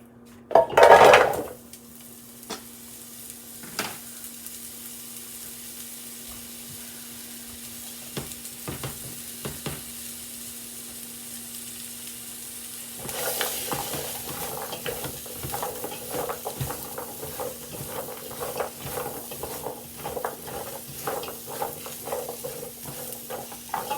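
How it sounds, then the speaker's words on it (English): Vegetables tossed into leftover sausage grease in a pan: a loud clatter as they land, then steady close sizzling with repeated scraping and stirring of utensils against the pan. "I'm going to leave all this grease here in the pan. toss these veggies in."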